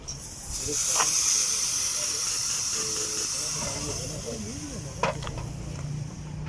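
A car fuel injector is pulsed while cleaner spray is forced through it, producing a strong, continuous hiss that swells early and tapers off, with faint voices and a small click underneath.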